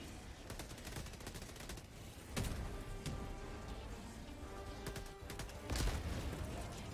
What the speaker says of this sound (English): Oh, dude, we're getting shot at.